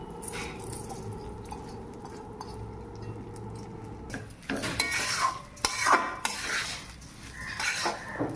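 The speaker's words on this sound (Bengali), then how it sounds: "নেড়ে নেব ভালো করে।" Rice is stirred in a pot while cooking pulao, giving a steady scraping and rustling under a faint sizzle, with louder utensil clinks and scrapes near the end.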